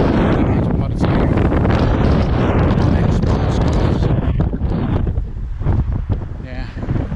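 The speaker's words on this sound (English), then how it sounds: "I don't even know whether you can hear me because of this wind" Strong, gusting wind buffets the microphone on an exposed coastal cliff path in Pembrokeshire, a loud continuous roar with surges and dips that eases slightly near the end.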